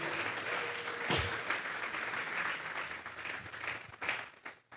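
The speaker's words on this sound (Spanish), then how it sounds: "Vamos a regalarle ofrenda de palmas al Dios de la gloria." A church congregation bursts into sustained applause as an offering during a sermon, with steady hand clapping from many people at a moderate distance and a few sharper claps near the end.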